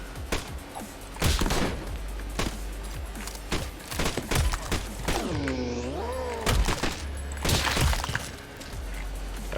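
Rapid bursts of gunfire with sharp shattering impacts in the action game MADNESS: Project Nexus arena mode, several loud volleys spread across the stretch and layered with crashing hits.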